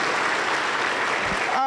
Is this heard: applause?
yes